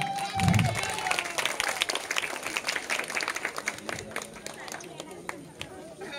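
An audience at a dance-drama stage performance breaks into brief, scattered clapping that thins out over a few seconds, with crowd chatter and an amplified voice in the background.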